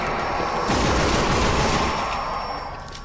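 Gunfire in the Sniper Elite Nazi Zombie Army video game: a dense, continuous crackle of shots and booms fills the clip at close range and loud volume, easing off slightly toward the end, with no talk.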